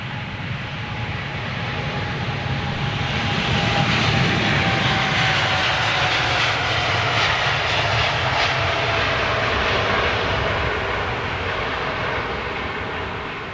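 Qantas airliner jet engines roar at a steady high level at an airport, a broad continuous rumble and hiss that swells slightly midway and holds with no voices.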